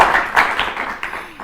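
A small group of children claps in a studio quiz show, several short irregular bursts of hand claps, moderately close and fading toward the end.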